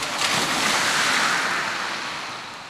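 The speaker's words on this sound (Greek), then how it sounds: "Τα αυτοκίνητα που κινούνται εκτοξεύουν νερά" Moving cars spray water across a flooded road during the first heavy rain, a steady loud rushing hiss that swells and slowly fades, with no talk.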